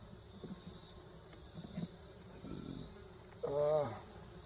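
Honey bees buzz around an open hive during a hive check and feeding, a faint steady drone with a few closer passes and light handling noises.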